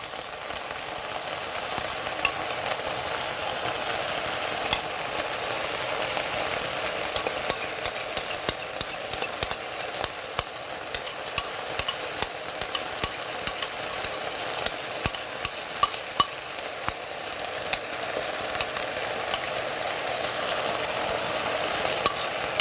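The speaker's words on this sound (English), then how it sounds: "now I'm going to add my Salisbury steak gravy" Salisbury steak gravy sizzles in a pan with a continuous bubbling hiss, dotted with small irregular pops and ticks as it is stirred. The sound is steady and close throughout, with no talking.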